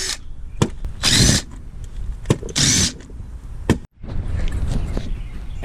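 Two loud whirring bursts of a power tool remove bolts on a Honda Civic rear brake, separated by clanks and knocks of metal parts, close and without speech.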